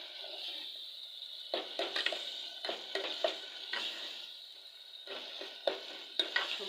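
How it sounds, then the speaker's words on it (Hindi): Masala with tomatoes sizzles in a pan for aloo ka bharta, a steady quiet frying hiss broken by repeated stirring scrapes and clinks, with no talking. "मसाला भून रहा है ना"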